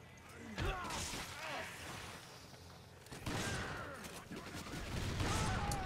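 Shotgun blasts in Resident Evil 5, sounding as several booming shots with crashing impacts spread through a busy, fairly quiet game mix, with voices under them.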